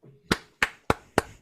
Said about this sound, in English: A slow clap from Betsy.